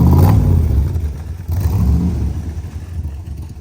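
A 1964 Chevrolet Corvette 327 V8 with side-exit exhaust revs up close by, a loud rasping blip that settles into a throaty, uneven idle with smaller throttle bursts.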